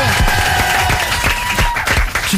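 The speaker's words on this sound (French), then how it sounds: "Est-ce qu'on peut l'applaudir?" Lively applause and scattered clapping from a studio audience during an NRJ radio show, dense and close, with sharp individual claps standing out through the wash.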